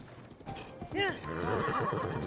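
A horse in a Zelda game gallops with steady hoofbeats and lets out one clear whinny partway through, close and continuous, with a voice speaking over it.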